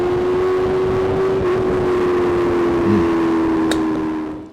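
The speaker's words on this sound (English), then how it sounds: "A crispy, clear exhaust sound." A motorcycle exhaust from a POV bike setup sounds close and steady, with a crisp, sustained engine tone that stays even and then tails off at the end.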